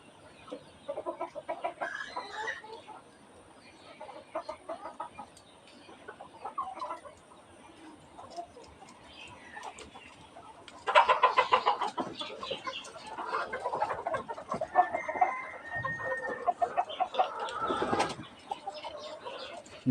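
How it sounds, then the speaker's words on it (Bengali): Egyptian Fayoumi roosters and hens on a poultry farm cluck in scattered, overlapping calls. The calls are moderately close and grow busier and louder about halfway through, with no talking. "এই জায়গাটায় আমরা কিছু মোরগ রেস্টে রেখেছি, এই মোরগগুলো হচ্ছে এখানে রেস্টে আছে।"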